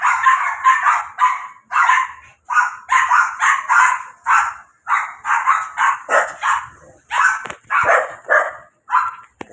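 Dogs bark repeatedly in a steady, rapid series of close, loud barks during a neighbourhood walk, with short gaps between the bursts and no talking over them.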